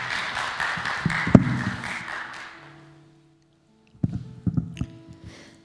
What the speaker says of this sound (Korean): 우리 백선희 집사님 나오실 때 박수로 환영하실까요?